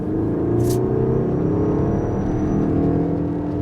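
A 2026 Toyota RAV4 GR Sport hybrid accelerates hard in GR mode using both gas and electric power, its engine a loud, steady rising drone with a thin electric whine heard from inside the cabin.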